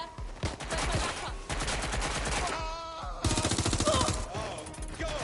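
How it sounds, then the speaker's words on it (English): Machine-gun fire aimed at the player in a PS4 game rattles in rapid, loud automatic bursts, pausing briefly before another string of fast shots, with a game voice faintly underneath. "We're getting shot at here."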